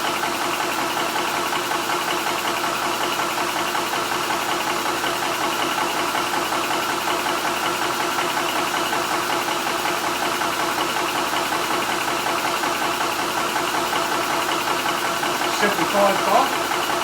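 An FX DRS Classic SHP air compressor pump running steadily, a continuous close mechanical hum with rapid knocking pulses that holds unchanged throughout, with a short extra clatter near the end.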